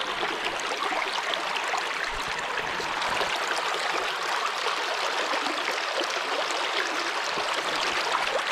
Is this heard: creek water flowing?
yes